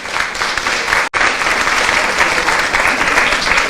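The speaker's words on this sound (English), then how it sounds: "Let's give him another round of applause." A loud, sustained round of applause fills the room for Professor Avinash after his talk on online VAT, with one brief break near the start before the dense clapping resumes.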